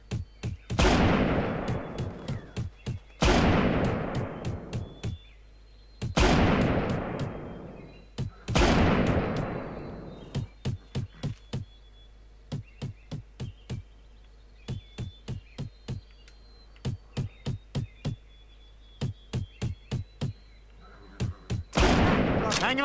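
Gunfire rings out in the video game Family Guy Back to the Multiverse: several loud booming shots with long decaying echoes, interspersed with rapid bursts of clipped automatic-style shots in regular groups.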